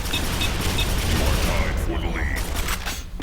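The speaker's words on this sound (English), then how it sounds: "putting in some work with the machine gun though, but we didn't end up getting the frag" Rapid machine-gun fire in a Quake 4 multiplayer match on a Quakeworld-style map, a dense loud rattle of shots with clanking mechanisms, fading near the end.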